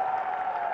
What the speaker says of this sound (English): It's warm round of applause from his mates